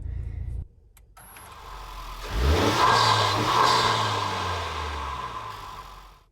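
A Honda Civic Type R engine starts and revs, swelling into a sustained, fairly quiet drone that rises then slowly eases off, heard alone without talk.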